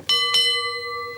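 A quiz-show bell rings twice in quick succession, loud, bright and metallic, and the second ring fades out with a long sustained tone. No one speaks.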